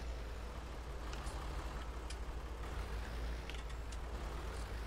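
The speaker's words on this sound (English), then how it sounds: "I'll just park the whole tractor in here," A tractor idles and rumbles as it is parked in Farming Simulator 19, a steady low engine drone with faint clicks and brief higher hisses, no talk.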